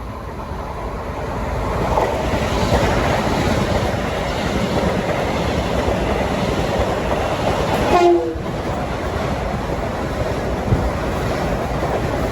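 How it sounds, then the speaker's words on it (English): Eastbound commuter trains roll into Forest Hills station with a steady rumbling clatter that builds near, and a brief horn blast sounds partway through before the rolling noise carries on. "We got 2 eastbounds approaching on track 2 and 4, train 1730 New York Huntington and 156 from New York to Babylon."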